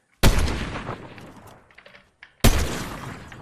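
Two sharp, loud sniper rifle shots in a video game, about two seconds apart, each with a long decaying echo.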